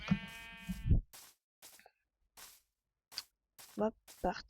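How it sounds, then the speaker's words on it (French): Sheep bleat in a blocky survival video game, a long wavering bleat at first followed by scattered clicks and short bursts, with a voice talking over part of it. "il y a un mouton qui a mangé"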